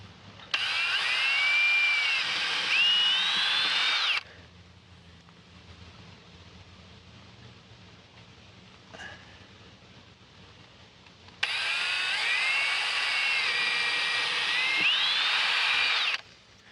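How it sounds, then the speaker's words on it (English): A power drill bores the four corner holes for a Trailer Vision SB50 flush-mount trailer connector, running in two loud, steady, high-pitched bursts of about four and five seconds, with a quiet pause between them. "gotta drill the 4 corners first."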